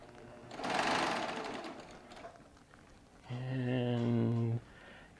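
A Baby Lock Triumph serger runs a hem, first as a loud buzzing burst, then after a pause as a steady humming whir of stitching for over a second before cutting off, with no talk over it.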